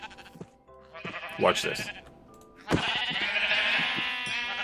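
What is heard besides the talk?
compressed sheep bleating in Minecraft video game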